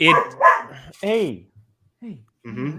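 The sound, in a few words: dog barking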